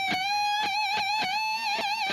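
An electric guitar is played without palm damping so the strings ring out together, giving a sustained wavering tone with steady overtones, and picked notes strike in a roughly even rhythm of about five attacks.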